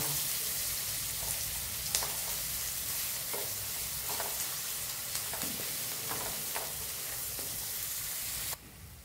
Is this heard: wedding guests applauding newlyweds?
no